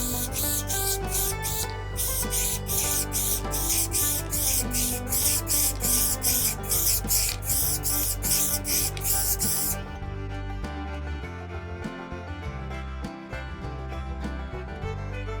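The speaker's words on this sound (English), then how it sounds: "So let's get spraying." Rhythmic bursts of aerosol spray hiss in quick repeated pulses, then stop, leaving quieter rubbing and handling sounds.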